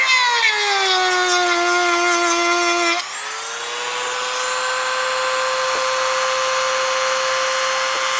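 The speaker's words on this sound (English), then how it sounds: "I'm just using my chainsaw sharpening stone because it's not very aggressive." A power tool fitted with a chainsaw sharpening stone grinds a thread, giving a steady, loud, close whine that shifts pitch once as the stone bites, with no talk.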